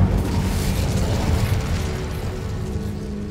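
A fiery Incendio spell from Hogwarts Legacy, cast inside decaying catacombs, bursts as a dense, loud roaring whoosh of flame that sustains steadily for a few seconds without fading.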